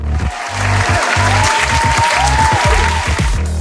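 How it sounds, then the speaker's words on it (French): Loud applause sound effect, a thick burst of crowd clapping under pulsing background music, sustained throughout. "Veuillez accueillir sur un tonnerre d'applaudissements DJ Fred."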